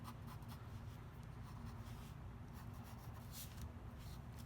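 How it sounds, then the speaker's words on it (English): A pencil sketches a box on paper during a perspective drawing lesson. The scratching strokes run soft and continuous at close range with no talk. "all I'm going to do is draw one box here"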